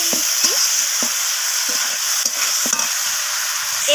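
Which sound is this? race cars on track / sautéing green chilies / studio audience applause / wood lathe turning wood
sautéing green chilies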